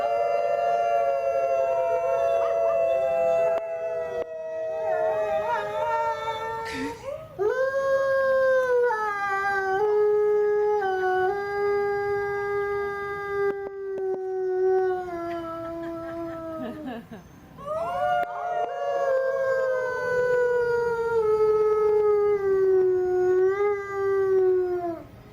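A voice imitating an Arctic wolf's howl, with long, rising and falling tonal wails repeated three times, loud and close, with brief breaks between them.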